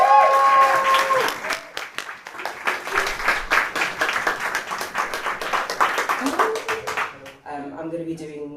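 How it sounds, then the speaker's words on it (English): An audience bursts into sustained clapping and cheering for a poet taking the stage at a live poetry event, loud and steady for several seconds before fading as a voice begins speaking. "Come on, give her the cheer!"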